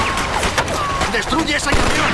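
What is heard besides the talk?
machine gun fire in Mafia II video game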